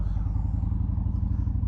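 The engine of a 2012 Victory Vision motorcycle rumbles steadily and close by, a deep, even low-pitched throb with no change in pace.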